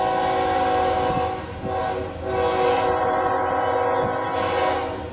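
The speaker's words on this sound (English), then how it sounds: "Love that horn." CSX freight train horn from a GE locomotive hauling a Tropicana juice train in the rain, a loud chord-like blast sounding continuously and close, with a brief pause, over rumbling train noise.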